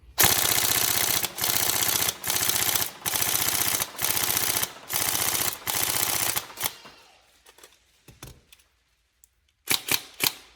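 An upgraded Tokyo Marui M4 Socom next-gen recoil airsoft rifle fires in several rapid full-auto bursts, loud and close. Its mechanical clatter has short pauses between bursts, then a few scattered shots after a quiet gap.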